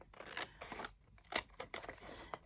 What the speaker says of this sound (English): So just trim off the excess.